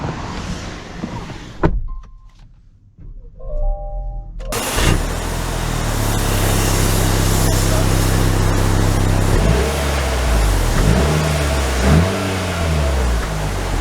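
A 2023 Acura RDX A-Spec: a door thuds shut, a short hush follows, then the engine starts and settles into a steady hum before revving and surging as the car pulls away, heard from inside.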